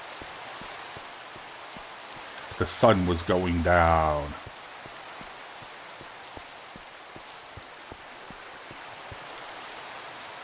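Continuous rain falls in a Minecraft-style skyblock game, a constant hiss with regularly spaced drop ticks, while someone talks briefly near the start and then the rain carries on alone.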